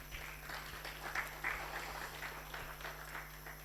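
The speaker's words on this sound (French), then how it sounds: "Veuillez à l'applaudir, s'il vous plaît." Audience applause at a conference on AI governance in Africa, a steady, fairly faint patter of clapping hands that lasts throughout without anyone speaking.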